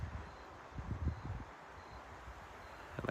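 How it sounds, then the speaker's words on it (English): Wind gusting along a mountain ridge line in Trinity County, California, rumbling against the microphone in uneven low buffets with a soft rushing hiss, rising and falling over a few seconds. "it is pretty windy"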